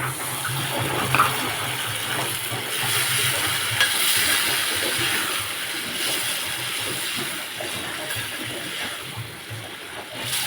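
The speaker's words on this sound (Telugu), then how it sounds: "ఇప్పుడు ఇందులో మనం వాటర్ వేస్తాం" Water is poured into a pan of mango and egg curry, giving a steady splashing gush that runs continuously at close range with no voices.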